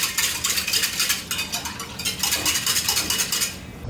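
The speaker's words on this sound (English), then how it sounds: "whisk to combine" Mauby lemonade being whisked in a bowl after sugar is added: a steady, quick clatter of metal against the bowl, close and moderately loud, with no talking.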